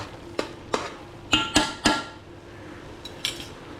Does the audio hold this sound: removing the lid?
yes